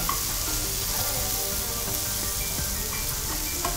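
Eggplant and chana dal masala cooks in a pan with a steady, close sizzle and frying crackle that holds evenly throughout, with faint stirring and no voices.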